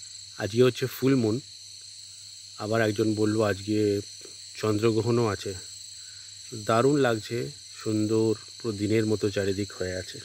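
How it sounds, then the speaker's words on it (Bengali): Crickets and other insects shrill steadily at night from a hilltop youth hostel in the hills under a full moon, a continuous high drone running beneath someone talking on and off throughout. "ঝিঝি পোকার ডাক, নানা রকম কীটপতঙ্গের ডাক শুনুন।"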